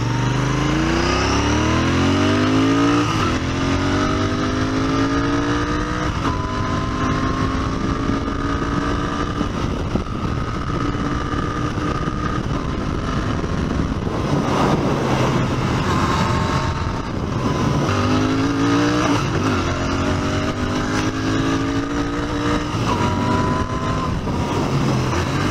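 A Royal Enfield Interceptor 650 motorcycle accelerates hard through several gears, its engine note rising in repeated sweeps with short dips at each shift, loud and close throughout.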